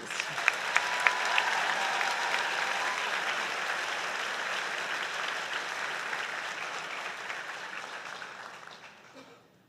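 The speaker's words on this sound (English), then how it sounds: "Another round of applause, please." Sustained applause from a large crowd at a medical graduation pledge ceremony, steady and dense, gradually thinning and fading out near the end.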